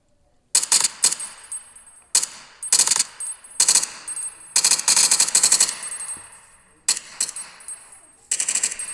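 A video game minigun firing in repeated sharp bursts of rapid shots, separated by short pauses, loud and crisp with metallic ringing tails and no voice.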